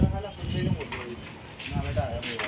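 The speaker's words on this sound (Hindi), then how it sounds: "ये कबूतर लड़ रहे हैं" Fighting Gole pigeons in Hyderabad coo and flutter in repeated low bursts, with someone talking over them at close range.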